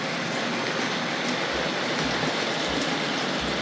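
Hornby model railway train running on its track at a collectors' exhibition, giving a steady, continuous rattling hiss with faint rhythmic clicks, close and unbroken throughout.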